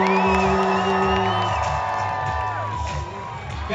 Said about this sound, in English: I'm going to leave the stage to allow you all to scream one last time for Lupita Nyong'o.